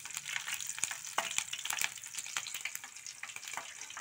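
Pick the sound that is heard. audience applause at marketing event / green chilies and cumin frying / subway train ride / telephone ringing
green chilies and cumin frying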